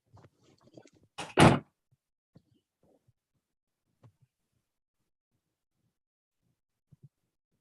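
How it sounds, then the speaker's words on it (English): A door closes in an office with one loud, sharp thud, followed by a few faint knocks and near-silence. "close the door."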